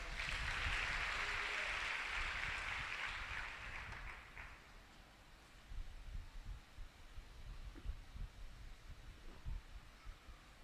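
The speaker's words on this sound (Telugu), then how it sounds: "చప్పట్లు ఒకసారి" A church audience at a Telugu sermon bursts into applause for about four seconds, then the clapping fades into quieter rustling and low thumps.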